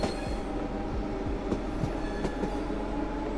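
Trains running in the railway simulator game Train Sim World 6, with a steady loud rumbling roll, periodic clickety-clack of wheels over rail joints and faint squeals throughout.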